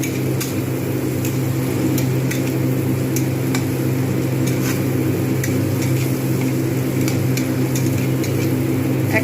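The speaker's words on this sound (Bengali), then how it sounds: "পেঁয়াজটাকে আমি ভেজে নেব।" Onion frying in oil in a pan for a crab masala curry, a steady loud sizzle under a constant low hum, dotted with small irregular pops and ticks.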